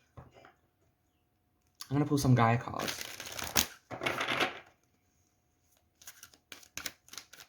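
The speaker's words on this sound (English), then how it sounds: "I'm going to pull some Gaia cards" A deck of Gaia oracle cards is shuffled and pulled close up, giving bursts of crisp riffling and flapping, then a pause and a run of sharp, separate card clicks and slaps.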